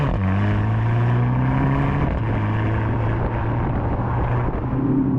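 A 2025 Mercedes-AMG GLC 43 engine pulls hard under acceleration, a loud, steady drone with rising tones that step through gear changes, heard close without talk.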